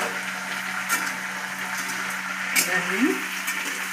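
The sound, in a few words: rice frying in a pan for basanti pulao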